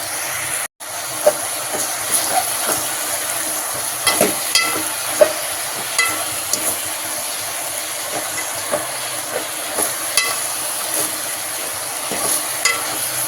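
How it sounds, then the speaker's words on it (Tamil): Onion and tomato sauté with whole cumin seeds in a pan for a Tamil drumstick-leaf gravy, giving a steady sizzling hiss with frequent stirring scrapes and clicks throughout, close and fairly loud with no talking. "இந்த வெங்காயம் தக்காளியும் நல்லா வதங்க ஆரம்பிச்சிடும்."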